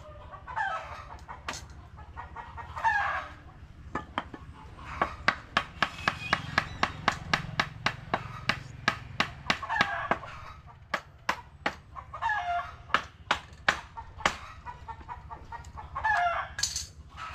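Chickens clucking nearby, mixed with a run of sharp rhythmic taps or claps through the middle, moderately loud with quiet background.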